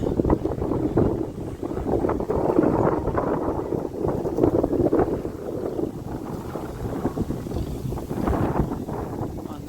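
A heavy tractor engine chugs and rumbles continuously up close, with gusty wind buffeting the microphone.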